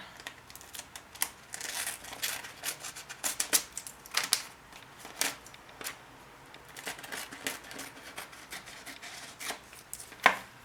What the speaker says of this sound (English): take that white piece of cardstock and kind of line it up and just cut around it